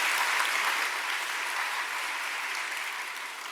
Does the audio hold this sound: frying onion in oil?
no